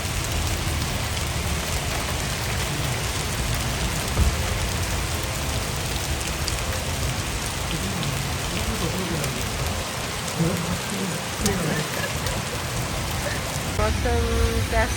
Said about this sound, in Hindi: बाहर ना इस तरह की बारिश हो रही थी।